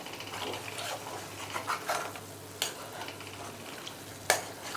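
Ghee bubbling and sizzling in a heavy-bottomed kadai while a spoon stirs and scrapes the metal, steady close frying hiss with occasional sharp clinks.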